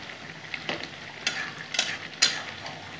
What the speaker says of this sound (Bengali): মাছের মাথাগুলো কাতলা মাছ আবার নাড়াচাড়া করে নেবো।